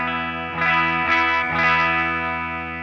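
Electric guitar chords strummed through a Line 6 HX Stomp XL Deluxe Reverb amp model, clean tone with slight edge, three strums ringing out over a steady background hum.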